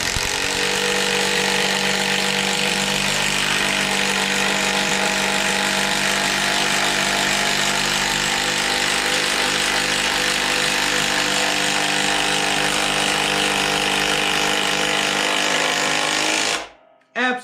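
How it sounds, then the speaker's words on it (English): A Greenworks 1/2-inch drill driver drives an 8-inch timber lock screw into wood, a loud, steady whirring motor drone lasting about sixteen seconds before cutting off abruptly, with a brief final burst. "drive the 8-inch timber lock the same way that the 1/2-inch drill driver did"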